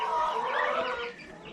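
A flock of two-week-old meat chickens cheeps and clucks in a dense, continuous chorus close by, loud at first and easing slightly toward the end, with no speech.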